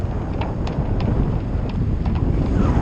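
Strong gusting wind, around 20 to 25 knots, blows across a sailboat under staysail on the Intracoastal Waterway. It makes a steady, loud roar and rumble that buffets the microphone throughout, with no speech.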